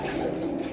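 Pigeons cooing in a short, steady low murmur, close and continuous, with no talk.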